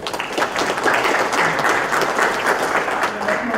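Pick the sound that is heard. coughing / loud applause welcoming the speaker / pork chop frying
loud applause welcoming the speaker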